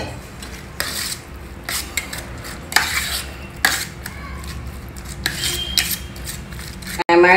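Spoon scraping and clinking against a bowl while stirring curd rice with grated ginger and salt, intermittent close strokes at an uneven rhythm, with a low steady hum underneath.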